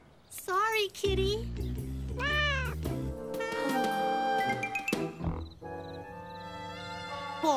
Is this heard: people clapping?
no